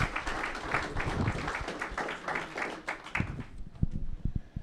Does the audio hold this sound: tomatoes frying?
no